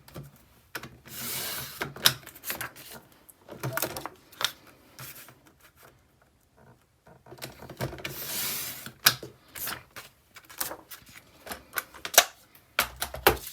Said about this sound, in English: I'm going to trim this piece of paper down to 9 inches by 9 inches.